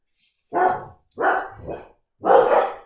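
A person imitates a dog with three short, loud barking bursts spaced about half a second apart, close to the mic.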